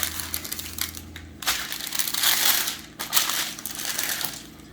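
Low carb pizza dough rolled out between sheets of parchment paper, giving close, loud crinkling and crushing rustles in bursts with brief pauses, no talking.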